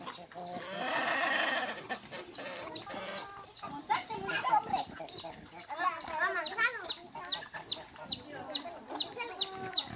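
Farmyard chickens clucking busily while being fed corn, a dense run of short repeated clucks and squawks close by, with children's voices talking and calling over them and a loud rustling burst early on.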